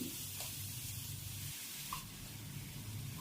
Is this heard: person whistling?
no